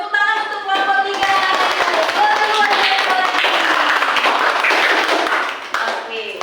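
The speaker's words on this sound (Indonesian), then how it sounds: "Tepuk tangan untuk kelompok 3." A classroom group claps for the third group in a dense burst of close hand claps that lasts several seconds, with voices mixed in before it fades.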